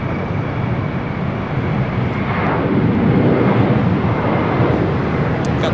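A WestJet Boeing 737 MAX 8 bound for Vancouver pushes back from Terminal 2 at LAX, giving a steady, loud broadband jet engine rumble and whine that holds evenly throughout, with no talking.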